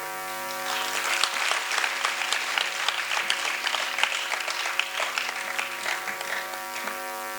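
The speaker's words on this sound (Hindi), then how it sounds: "आप तालियां बजा रहे हो" Sustained applause from an audience in a classroom, many hands clapping densely and evenly at moderate loudness with no voices over it.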